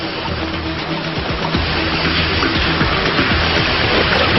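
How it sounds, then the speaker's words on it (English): A small waterfall in the Norwegian mountains of Nordland rushes steadily, a constant broadband roar of falling water with no pauses and no voices. "I can hear the sound of a small waterfall ahead."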